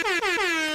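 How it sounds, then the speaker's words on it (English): Three quick blasts of an air horn sound effect, loud and close, each a brassy honk with a slight downward bend, the last held longer. "that gets another air horn."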